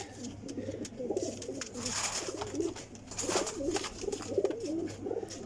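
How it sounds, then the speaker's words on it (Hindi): Pigeons, including a golden pigeon, coo repeatedly in soft, rolling, low calls close by, overlapping one another in a steady rhythm. "ए देखो जी कबूतर गोल्डन कबूतर है माशाल्लाह जी।"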